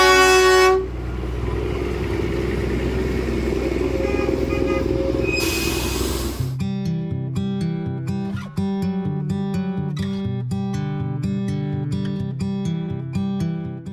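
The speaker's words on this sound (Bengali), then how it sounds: "আপনি দেখা পেয়ে যাবেন পথের পাশে মাঝে মধ্যেই দার্জিলিংয়ের বিখ্যাত টয় ট্রেনের" A Darjeeling toy train near Kurseong passes beside the road, opening with a loud, sustained horn toot. Then a steady engine rumble and rhythmic chuffing pulses carry on up close.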